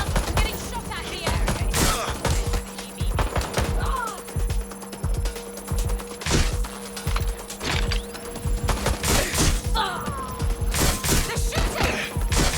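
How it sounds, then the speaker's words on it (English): Gunfire in the video game Watch Dogs: Legion, rapid bursts of shots and sharp impacts crashing close by over a steady droning background, with a voice speaking briefly in between. "They're shooting!"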